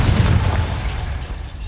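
A Confringo blasting spell bursts in the Hogwarts Legacy video game, a loud close boom with a deep low-end thump that fades into a rumbling tail, no voices over it.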